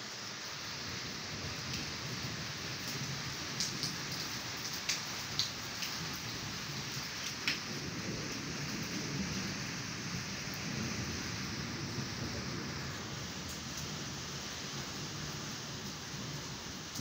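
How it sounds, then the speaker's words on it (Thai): Rain falling outside a room, a steady dense hiss of drops on surfaces with occasional louder drips, constant and moderately distant, no talking. "ฝนตกนะครับ"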